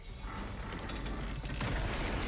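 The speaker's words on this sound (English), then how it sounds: "The latch broke apart with a crackling sound." In a video game, a door latch breaks apart as a group charges a gym door: a dense, crackling mechanical rattle and creak running continuously, growing a little louder and harsher near the end.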